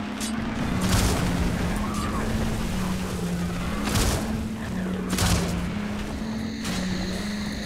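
A cannon weapon firing in Hexen: Wrath of Cronos, heard as several spaced booming thumps over a steady droning hum, moderately loud with no speech.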